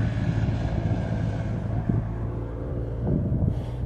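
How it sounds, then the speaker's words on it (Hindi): A car approaching on a mountain road at the Panja Gali tourist spot, its engine a steady low rumble with wind buffeting the microphone, fairly close and continuous throughout, with no talk. "गाड़ी आ रही है"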